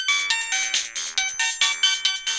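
A mobile phone ringtone chirps in a quick, steady electronic pattern of repeated bright pulses, loud and close, with no voices over it.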